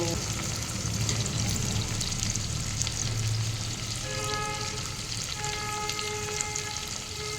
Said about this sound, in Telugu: ఉల్లిపాయలు ఇలా వేగిపోతున్నాయి